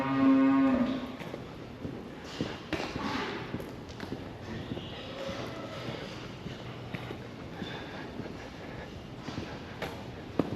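A heifer in a dairy barn gives a loud moo at the start, followed by quieter barn sounds of shuffling hooves and scattered knocks, with no talking.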